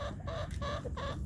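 A rooster clucking close by in a few short, repeated calls over a low background hum.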